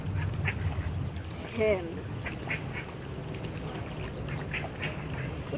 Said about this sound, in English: So where's the mallard, the male mallard?